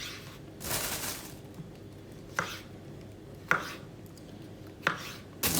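A knife quarters mushrooms on a board for risotto, with a burst of scraping near the start, then three sharp separate cuts spaced about a second apart, close and fairly loud against a quiet room.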